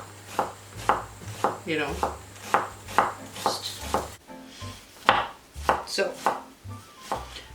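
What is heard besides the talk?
knife dicing onions on a cutting board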